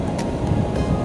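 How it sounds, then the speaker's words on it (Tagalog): Strong ocean waves roll in at a La Union beach, a loud continuous wash of surf with wind noise buffeting the microphone. "Ang ganda ng alon ngayon kaysa kanina. Ang lakas na ngayon"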